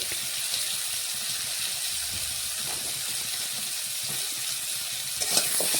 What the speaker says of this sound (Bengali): আলুগুলো লবণ হলুদ দিয়ে দেখুন ভেজে নেব